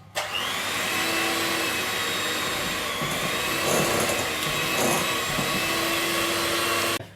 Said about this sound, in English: And then we get our mixer, little hand mixer,